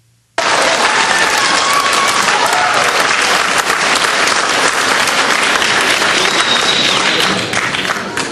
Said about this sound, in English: The majority of the crowd booing.